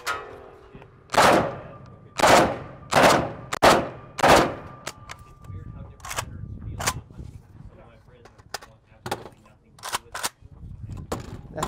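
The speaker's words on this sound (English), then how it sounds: "when you get the opportunity to shoot full auto, you should shoot it all" Full-auto gunfire at a Shot Show 2020 range: several loud, rapid bursts in quick succession, followed by scattered sharper single reports and some talk between them.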